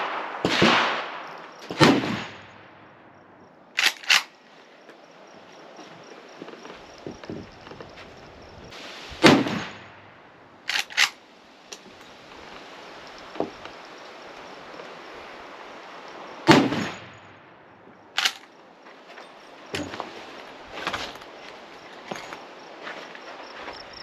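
A Winchester Model 1886 lever-action rifle in 45-90 fires at an outdoor range: several sharp, loud reports spaced seconds apart, with clunky lever-cycling and handling sounds between them and a steady background hiss.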